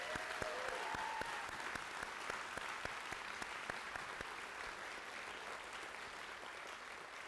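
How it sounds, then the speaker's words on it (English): Applause at a fire academy recruit graduation ceremony for award recipients, a faint, distant patter of many hands with a few sharper individual claps standing out, sustained evenly. "So one more big round of applause for all the award recipients today."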